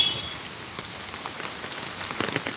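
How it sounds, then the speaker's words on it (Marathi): Heavy monsoon rain pours steadily in Vadgaon Sheri, Pune, a dense, even hiss of drops on surfaces, continuous and moderately loud without voices. "परत एकदा पावसाचे जोरदार पुनरागमन आज"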